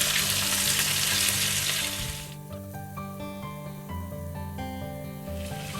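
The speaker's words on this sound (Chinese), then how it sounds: "把它煎至两面焦黄" Pieces of marinated chicken for three-cup chicken fry in hot oil until golden on both sides, a loud, close sizzle that fades after about two seconds to a quieter, steady crackle.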